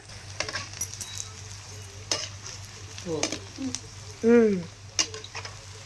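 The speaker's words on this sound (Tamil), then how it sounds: "ஸோ எல்லா உருண்டையும் இதே மாதிரி நீங்கள் பொரித்து எடுத்துக்கோங்க" Oil sizzles and bubbles steadily as lentil balls deep-fry, with occasional clinks and scrapes of a utensil stirring in the pan.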